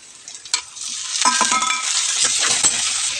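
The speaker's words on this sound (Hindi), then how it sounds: "अब हम इसमें डालेंगे मस्टर्ड ऑयल, इसमें डालेंगे थोड़ी सी जीरा, डालेंगे कटी हुई प्याज।" Onion and tomato frying in hot mustard oil with cumin, a loud close sizzle that swells after a clatter of the ingredients landing, with stirring scrapes underneath and no speech.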